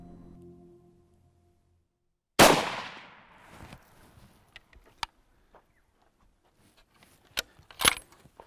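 A single rifle shot fired during a leopard hunt in the bush, a sharp, loud crack with a fading tail, followed by scattered faint clicks and a short burst of clattering handling noise.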